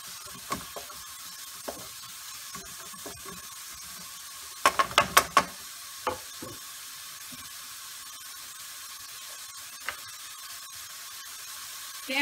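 Spaghetti stirred in a pan, with scattered scraping and clinking taps and a quick burst of clatter midway, faint sizzling underneath.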